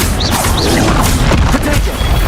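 A Confringo fire-blast spell goes off in Hogwarts Legacy amid dense, loud combat: a crashing, booming burst with thuds and whooshes layered over continuous battle noise, alone without talk.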